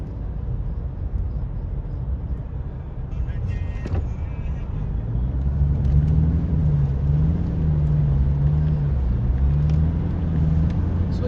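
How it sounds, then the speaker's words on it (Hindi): A long convoy of cars on a motorway makes a loud, continuous rumble of engines and tyres with a low droning tone rising midway, while someone talks over it. "ये मंजर है इस टाइम वज़ीर आला सुहेल अफरीदी के काफिले का"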